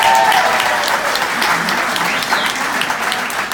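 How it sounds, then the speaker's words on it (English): A crowd claps steadily and warmly for several seconds at a wedding toast, with dense, continuous applause filling the room. "Please give a round of applause."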